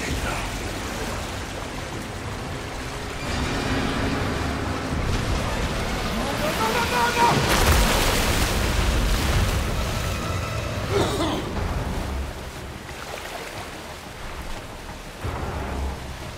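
A sewer gate valve releasing in The Callisto Protocol, a loud broad roar of rushing water that swells in the middle and then eases, sustained and close, with no talk.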